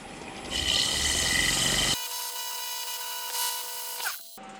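Sandpaper working a wood-turned lamp spinning on a lathe, a broad rushing hiss from grit on wood over the motor's steady hum, then the sanding stops and the lathe keeps whirring on alone before it winds down.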